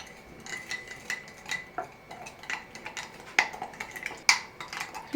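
A spoon clinks and scrapes against a bowl while a yeast mixture for bread is stirred, a series of quick, bright metallic taps close by with no voices.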